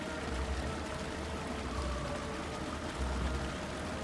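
A waterfall pours inside a small cave in the Shadowgate video game, a soft, even rushing wash with low rumbling swells, fairly quiet and unbroken throughout.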